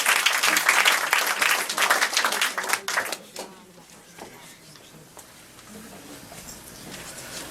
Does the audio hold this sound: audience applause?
yes